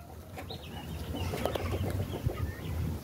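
A rooster and hen on a rural smallholding cluck softly and intermittently at some distance, mixed into steady outdoor background noise.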